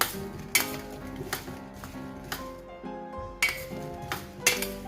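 Spoon clinking against a bowl or pot while turmeric and spices are worked into mango pieces for pickle; repeated sharp taps and rattles at an uneven rhythm, close and fairly quiet, with no talking.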